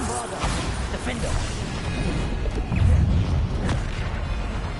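Bombarda explosion spell in the video game Hogwarts Legacy, a deep booming blast with crashing, whooshing debris, loud and close, mixed with other spell effects.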